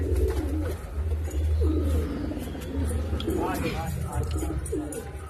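Pigeons coo nearby in repeated low, throaty phrases over a steady background hum, with a few faint chirps mixed in.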